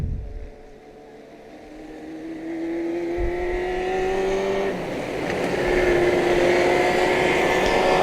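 Legends and Bandolero race cars run a feature race on a quarter-mile mini oval, engines droning loud and steady as cars pass and rise in pitch, a rolling pack of revving motors with no talk.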